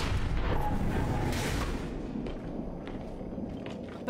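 Gunfire and heavy booms in the video game Gears of War 5, dense continuous battle noise with sharp bursts throughout, loud and close, fading slightly toward the end.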